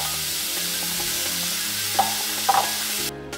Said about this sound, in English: Now we will add the shrimp.